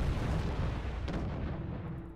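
Ship cannons fire in a space-sail naval battle in the Treasure Planet: Battle at Procyon video game, with a dense, rumbling barrage of booms and one sharper report standing out over the continuous low roar.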